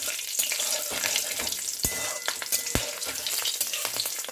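Cumin seeds, a bay leaf and a green chili sizzle and crackle in hot oil in a pan, steady frying close up with occasional sharp pops and the scrape of stirring.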